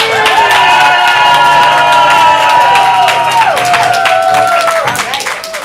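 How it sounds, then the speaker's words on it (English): A ComedySportz improv comedy audience shouts, whoops, cheers and claps loudly and continuously, a dense, close roar that eases off slightly at the end. "I want you to shout, make some noise, clap, blow the roof off this place"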